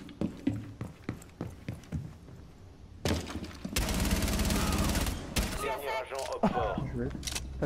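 Gunfire in the Rainbow Six video game: scattered sharp single shots, then a dense rapid burst of automatic fire, with players talking over parts of it.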